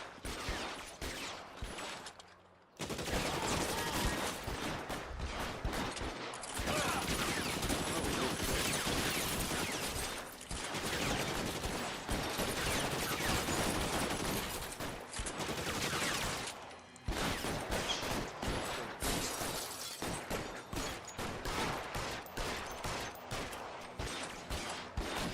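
A shootout in the video game L.A. Noire: dense, loud bursts of gunfire come in long rapid volleys, broken by a few brief pauses.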